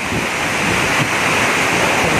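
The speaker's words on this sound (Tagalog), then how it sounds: "Lumalakas na yung hangin at saka ulan." A loud, steady roar of typhoon wind and heavy rain, constant and buffeting the microphone throughout, with no voices.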